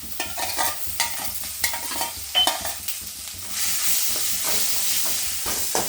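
Grated raw mango pulp hits hot oil with curry leaves and turmeric for mango pulihora, first scraped and stirred in bursts, then a loud, steady frying hiss that rises and holds near the pan.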